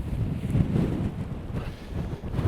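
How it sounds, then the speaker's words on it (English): Wind gusts across icy, fog-bound hilltops in the Peak District in winter, a continuous low buffeting roar striking the microphone, loud and steady with no voices. "the wind is now gusting right across the tops"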